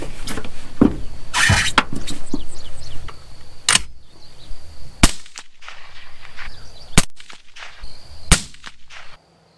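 An AR15 rifle fires while being sighted in outdoors from a truck bed, several sharp, loud cracks spaced a couple of seconds apart over wind and low background rumble, with no talking.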